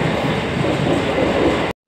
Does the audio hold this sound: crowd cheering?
no